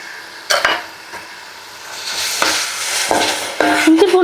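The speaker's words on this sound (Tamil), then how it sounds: "இஞ்சி பூண்டு பேஸ்ட்டும் பச்சை வாசனை போகிற வரைக்கும் வதக்குனா போதும்." Ginger garlic paste sautéing in a pan for crab masala, a steady close sizzle with several sharp stirring scrapes of a spoon against the pan.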